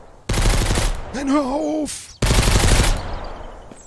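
Gunfire in the survival game Mist Survival comes in two dense bursts, loud and close, with a pained shout between them.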